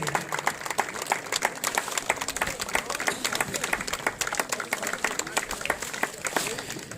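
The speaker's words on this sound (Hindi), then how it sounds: "तालियों की गड़गड़ाहट" Loud, sustained applause from a large audience at a student honors ceremony in Uttarakhand, with dense rapid clapping rolling steadily throughout.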